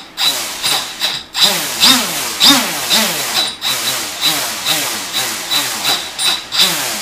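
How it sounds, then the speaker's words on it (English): An RC brushless motor driven by an Afro ESC that loses sync stutters hard on rapid throttle from low RPM. Close, loud bursts of rough grinding whine surge and drop in a rapid, uneven rhythm, with no talking. "the motor's stuttering quite badly"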